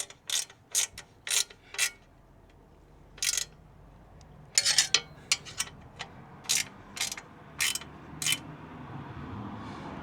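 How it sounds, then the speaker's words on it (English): Ratchet spanner tightening bash plate bolts on a Royal Enfield Himalayan 411, a series of sharp metallic clicking bursts in irregular groups, close and loud over a quiet background. "we shall use the ratchet spanner the correct way around"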